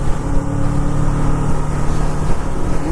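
A Kawasaki Vulcan 650 S motorcycle cruises on the highway in top gear, its engine droning loud and steady under heavy wind rush, with no talk.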